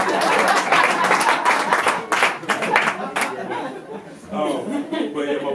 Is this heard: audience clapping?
yes